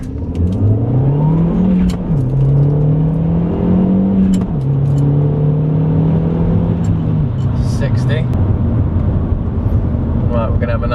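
An Audi A3 3.2 V6 accelerates in a 0 to 60 test, its engine note rising through several gear changes with brief pitch drops between them, heard from inside the car while people talk.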